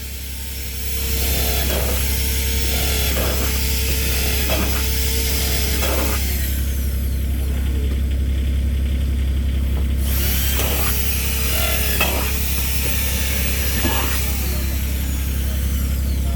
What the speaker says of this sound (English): We may have voided our warranty with Boffman Tile by drilling 300 holes in this thing